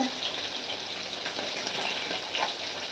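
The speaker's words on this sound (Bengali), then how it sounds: "এতে কই মাছ ভাজছি" Koi fish fry in hot oil over a high flame, giving a steady, close, dense sizzle and crackle that continues evenly throughout.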